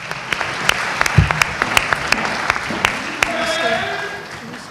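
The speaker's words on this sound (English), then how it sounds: "Let's have another round of applause." A crowd claps steadily for several seconds, the individual claps sharp and close, with a few voices mixed in beneath.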